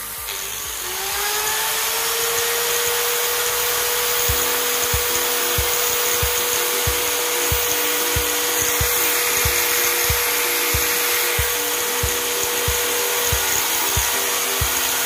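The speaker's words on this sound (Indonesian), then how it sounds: "Gerenda." An electric grinder running on household mains power spins up within the first second, then holds a loud, steady whine with a faint rhythmic ticking underneath for the rest of the clip.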